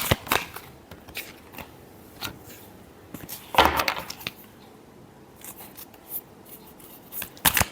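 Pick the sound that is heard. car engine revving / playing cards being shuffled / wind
playing cards being shuffled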